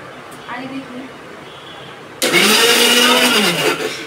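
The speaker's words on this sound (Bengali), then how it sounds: "এই যে দেখেন ব্লেন্ডার তো অন করা ছিল" Quiet room noise, then a blender's loud whirring motor kicks in abruptly and runs steadily as it blends boiled eggs into mayonnaise, its pitch shifting slightly as it churns.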